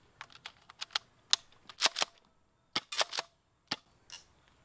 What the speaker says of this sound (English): the gas starts getting so weak that it just kinda spits the BBs out barely